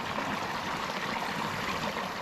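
Water trickles steadily through a squeeze-style backcountry water filter, a close, continuous light splashing stream with no pauses.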